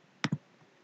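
A computer mouse gives two crisp clicks in quick succession, close and isolated against near silence.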